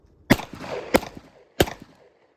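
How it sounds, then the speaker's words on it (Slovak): Three sharp, loud gunshots from a Glock 20 pistol firing 180-grain rounds, spaced roughly evenly apart with short echoing tails, heard close and alone outdoors. "Pozor, strieľam!"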